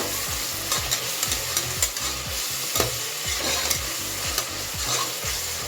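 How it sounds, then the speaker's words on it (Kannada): Homemade ginger garlic paste fries in a pan, a soft steady sizzle broken by regular scraping stirs of a spoon, close and alone. "ಸ್ಪೂನಷ್ಟು ಶುಂಠಿ ಬೆಳ್ಳುಳ್ಳಿ ಪೇಸ್ಟ್ ಹಾಕೋತೀನಿ ನಾನು ಇದನ್ನು ಮನೆಯಲ್ಲೇ ಮಾಡ್ಕೊಂಡು ಇಟ್ಕೊಂಡಿರ್ತೀನಿ ಫ್ರೆಶ್ ಆಗಿ ಮತ್ತೆ ಫ್ರೈ ಮಾಡ್ಕೊತಾ ಇದ್ದೀನಿ"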